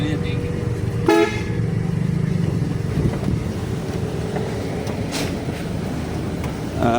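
A truck horn gives a short honk near the start. Steady road and engine rumble fills the rest, with people talking faintly in the background.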